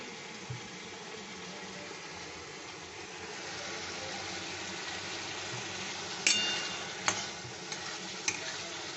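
Small fish sautéing in a pan for a banana flower and prawn dish, a soft steady sizzle with a few sharp clinks of a utensil against the pan.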